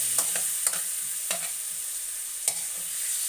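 Chicken pieces frying and browning in a pan with chili leaves and moringa for tinola, with a steady hiss of sizzle broken by occasional sharp clinks and scrapes of stirring.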